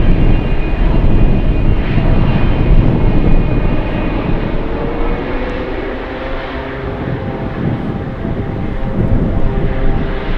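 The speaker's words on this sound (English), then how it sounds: "there's a C-130 flying right over the airport" A Lockheed C-130 passes over Anchorage airport on a gusty day, its engines a steady, broad rumble and roar that stays loud throughout and eases slightly toward the end, with wind noise and no talking.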